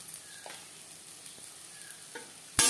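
Fried bitter gourd sizzles softly in a pan as turmeric powder and salt are stirred in, with a few faint scraping stirs over a low hiss and a sudden loud burst at the very end.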